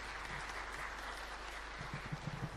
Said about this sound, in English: let's give them a big round of applause as they take their seats back